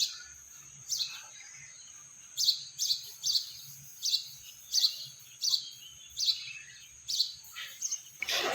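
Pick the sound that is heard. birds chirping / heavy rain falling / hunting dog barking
birds chirping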